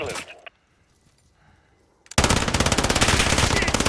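Rapid automatic gunfire from a gun in Call of Duty Modern Warfare, fired from the hip, bursts out loud and dense after a short quiet stretch, with a brief shot near the start.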